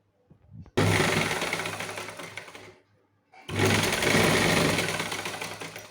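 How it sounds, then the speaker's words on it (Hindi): An electric sewing machine runs stitching a single layer of fabric for a grara, two loud continuous bursts of rapid needle chatter separated by a short pause, close and alone. "ये हम सिंगल कपड़े पे सिलाई लगा रहे हैं।"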